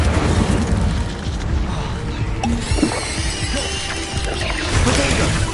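An Incendio fire spell is cast in Hogwarts Legacy, a dense crackling and whooshing rush with mechanical clanks, running continuously and loudly throughout, fading slightly midway before swelling again.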